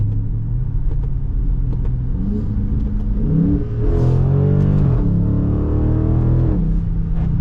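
A Dodge Charger Scat Pack widebody accelerates from a stop, its engine rumbling loudly and rising in pitch. It briefly drops back, then surges again in a deep, close roar.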